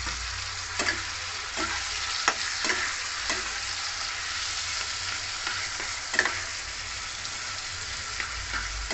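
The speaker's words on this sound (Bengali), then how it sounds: "বাঁধাকপি আর টমেটো, এটাকে দিয়ে ভালো করে এবার কষাবো" Cabbage and tomato stir-fried with spices in a pan, a steady soft sizzle of frying under repeated scraping stirs with a spatula, close and alone, no talking.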